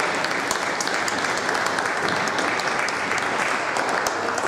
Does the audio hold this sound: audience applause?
yes